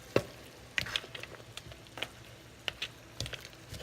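Shrimp and clams in a white wine and Pernod sauce with lemon juice being stirred in a pan: soft sizzling under scattered light scrapes and taps, close and quiet, with no talking.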